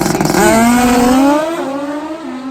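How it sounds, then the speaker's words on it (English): A Kawasaki KZ 1500 cc big-motor drag bike roars loudly at close range, its engine note climbing steeply as it revs hard and accelerates away down the strip. "Douglas Robinson with the Kawasaki KZ big motor, 1500 cc."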